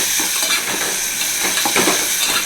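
Small onions (shallots) fry in a pan, lightly salted, for a Tamil shallot kulambu. A steady, close sizzle and hiss runs throughout with a few soft stirring scrapes, and no voices.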